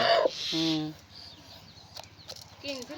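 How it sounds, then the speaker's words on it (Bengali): A very large broiler rooster, around ten kilograms, gives a short burst of clucks up close, then a second brief cluck near the end, with people talking and some handling noise around it. "জীবনে মনে প্রথম ব্রয়লার মুরগি এত বড় দেখলাম"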